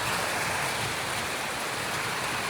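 Heavy rain drums steadily and loudly on metal roof sheets, a dense unbroken roar with no pauses.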